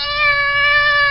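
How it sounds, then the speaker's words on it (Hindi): A single sustained, high wavering wail like a cat crying, loud and steady with a bright tonal edge, stands alone as an eerie horror story effect. "चारों तरफ अंधेरा और बिल्लियों की रोने की आवाज।"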